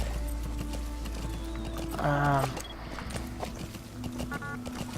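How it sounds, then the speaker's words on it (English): Hooves of a horse running in Metal Gear Solid V: The Phantom Pain, a steady clip-clop rhythm with a short whinny partway through, set against low game ambience. "I know damn well there's a way to make this horse run."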